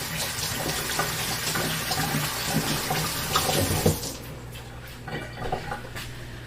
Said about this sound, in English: I'm just going to wash my hands really quick